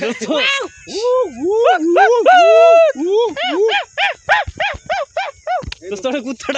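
A human voice imitates a dog's barking and howling in a run of rising-and-falling yelps, loud and close, breaking into short rapid bursts toward the end.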